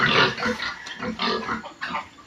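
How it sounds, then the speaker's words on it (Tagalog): Several well-fed pigs grunting and snorting close by in short bursts after their evening feed, a busy rhythmic series of grunts. "Nakapaghapunan ang mga baboy."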